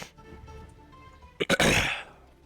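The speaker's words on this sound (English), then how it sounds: "I'm very sorry about all the sniffling." Someone with a sinus infection clears their throat and sniffles, a couple of sharp bursts followed by a longer rough throat-clearing, close to the mic during a Disney Lorcana card game.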